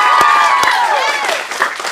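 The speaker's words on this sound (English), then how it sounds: "We can clap for her." Audience applause at a teen acting-script showcase at an acting studio in Phoenix, a loud, dense wash of clapping from a crowd, punctuated by a couple of sharp close claps and faint overlapping voices.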